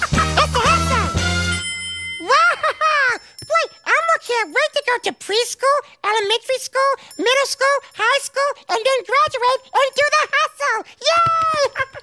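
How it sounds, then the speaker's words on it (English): A school bell rings at the start in a brief, bright, buzzing burst in Elmo's World, then lively character voices take over, talking and singing over music. "Hey, there's the bell."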